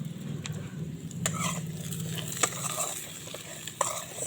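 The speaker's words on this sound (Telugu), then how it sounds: "సాల్ట్ వేసి కలుపుకోవాలి." Sweet potato mixed with salt in a pan, quiet scraping and stirring strokes with a few sharper clicks, alone without talk.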